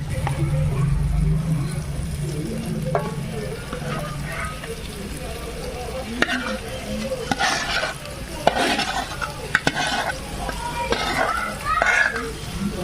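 Chicken curry added to onions in a pot and stirred, with close scraping of a spoon against the metal and soft frying sizzle, while a person talks over the cooking.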